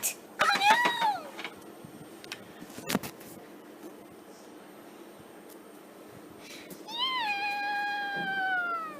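A cartoon cat gives two meows, one near the start and a longer drawn-out one near the end, each clear and close, over faint background sound and a few sharp clicks.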